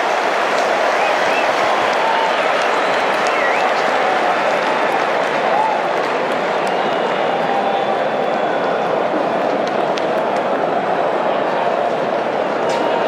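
A large crowd at a New Zealand versus Australia Twenty20 cricket match yells and cheers in a continuous roar, loud and sustained, with scattered whistles and a commentator talking over it.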